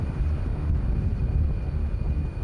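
A Mi-24 military helicopter flying over the Khmeimim airbase gives a steady, loud, unbroken engine roar with no voices.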